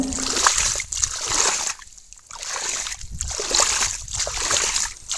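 Hillside spring water splashes and sloshes continuously as debris is pulled away by hand, close and fairly loud with uneven surges.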